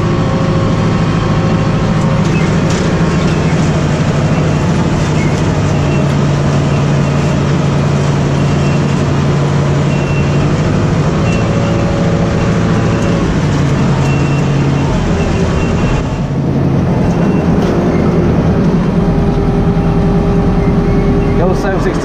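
Steady, loud diesel drone from an old Ford 7610 tractor straddling two potato rows while hauling spuds, the engine note shifting slightly midway before settling back into a continuous close rumble.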